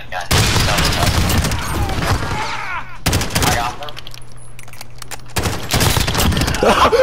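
Loud gunfire from a Call of Duty Gunfight match on the Rust map, with bursts of rapid shots in three clusters separated by brief lulls, plus a steady hum underneath.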